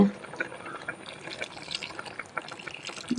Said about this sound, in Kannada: ಒಂಚೂರು ನೀರು ಪಾಡ್ಬೇಕು